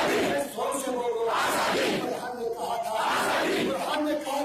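Crowd at a Kashmiri protest procession chanting slogans in loud, rhythmic waves of massed voices, dense and continuous, with a reverberant outdoor feel.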